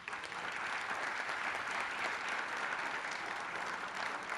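A university gathering on sports communication and press relations bids farewell to two honored guests with strong audience applause, an even wash of many hands clapping, fairly faint and distant, steady throughout.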